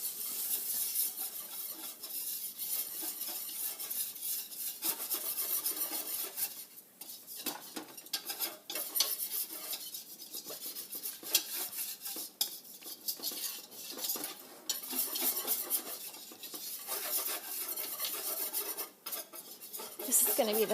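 A roux of about two tablespoons of fat and two of flour stirred steadily in a pan for tamale sauce, giving a continuous scraping and clinking of utensil against metal with a faint sizzle underneath.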